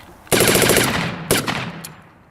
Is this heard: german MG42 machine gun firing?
yes